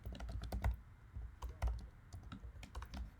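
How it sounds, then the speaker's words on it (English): Python code being typed on a computer keyboard, quiet close key clicks in an irregular run with occasional heavier strokes. "click here and type some Python code"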